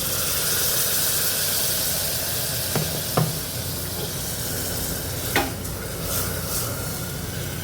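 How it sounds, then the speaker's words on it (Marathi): Hot water is poured into mutton masala that has been frying in oil for a few minutes, setting off a loud, steady hiss and sizzle with a few sharp clinks from the pan and no voices. "आपण ह्यामध्ये 1 कपभर गरम पाणी घालूया"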